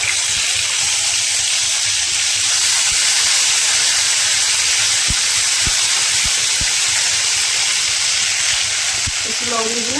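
Ginger garlic paste sizzles steadily in hot oil with cumin and bay leaf while mung dal is being cooked at home, a continuous close frying hiss running throughout with a few faint knocks.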